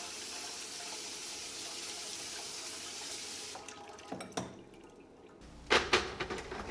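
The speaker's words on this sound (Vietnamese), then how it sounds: "đổ nước muối này đi và rửa dưa" Salty brine is poured off quick-pickled cucumbers and they are rinsed under running water at a sink, a steady close splash from the tap that stops, followed by scattered drips and wet handling noises.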